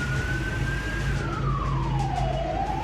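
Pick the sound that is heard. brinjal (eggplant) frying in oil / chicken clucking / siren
siren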